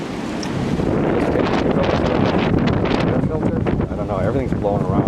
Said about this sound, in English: everything's blowing around, it's getting really windy here